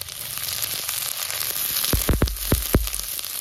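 Onion and garlic frying in a little oil for a South Indian-style chicken dish, a steady sizzle with a few sharp knocks or stirring clacks near the end.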